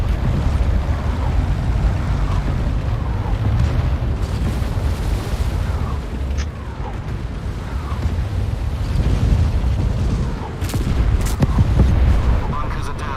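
Heavy booming fire from a Sherman tank shelling bunkers in World of Tanks, a continuous rumbling barrage of cannon blasts and explosions, loud and dense throughout, with a voice talking over it.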